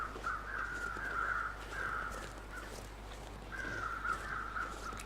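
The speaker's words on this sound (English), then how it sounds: "Ooh, small crows. You can see them circling around." Small crows call in a survival video game, with several harsh caws in two bursts against a steady low ambient hum, fairly near and moderately loud, and no one talking.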